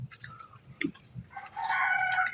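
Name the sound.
Rhode Island Red hens clucking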